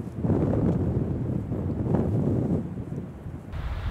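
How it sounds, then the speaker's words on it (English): Strong wind of about 35 miles per hour buffets the microphone outdoors in New Mexico elk country, a loud continuous rumbling roar that surges and eases in gusts. "Even in a 35 mile an hour wind, we're going for a hike."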